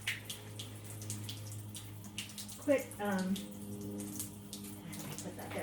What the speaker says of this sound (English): it's pouring too much water on my floor